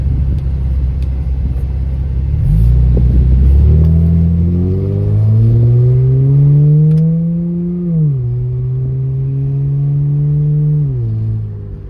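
A car engine idles with a low rumble, then revs up and holds a rising, steady drone before easing back down, close and loud throughout, with no talking.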